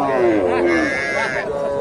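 A Shahiwal bull calf or local dairy cow lows at a busy cattle market in Bogura, a drawn-out moo that rises and falls, with a second call overlapping amid voices and crowd chatter.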